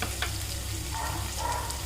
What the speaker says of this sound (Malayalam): ഇതിലേക്ക് നമ്മൾ ചെറുതായി അരിഞ്ഞ് സവാള ഇട്ട് കൊടുത്തിട്ടുണ്ട്.